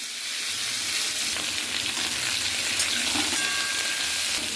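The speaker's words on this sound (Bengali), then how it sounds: "প্রথমেই কড়াইতে তেল গরম করে নিয়ে আমি কালো জিরা ফোড়ন দিয়ে দিলাম, দিয়ে সমস্ত চিচিঙ্গাগুলো দিয়ে দিলাম" Snake gourd tossed into hot oil with nigella seeds hisses and sizzles in a wok, a steady loud frying crackle with faint stirring scrapes throughout.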